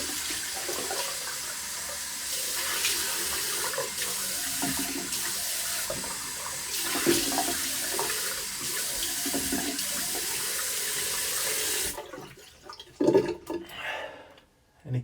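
A bathroom tap runs in a steady, loud stream for a cold rinse after shaving, then stops abruptly. Short splashes and handling sounds follow at the end.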